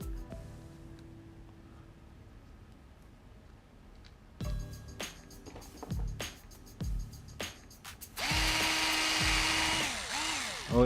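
A power drill drives screws into a Traxxas Slash LCG RC truck's front differential in short bursts, several spin-ups separated by pauses, with a longer whirring run near the end, close and fairly loud.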